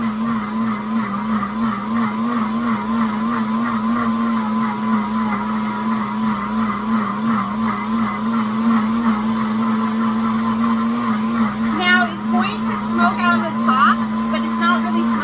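A blender grinding sugar into powdered sugar runs steadily with a constant motor whine and grinding texture, close and loud throughout, with some higher rattling toward the end.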